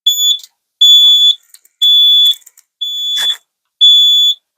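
A fire alarm panel sounds a trouble signal after an open circuit from a missing end-of-line resistor, giving five loud, shrill electronic beeps about a second apart with short gaps of silence between them.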